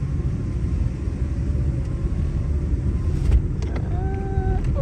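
A car's engine idles with a steady low rumble while the car sits stuck in a snowbank, wind buffeting the microphone, and a few faint higher tones appear near the end.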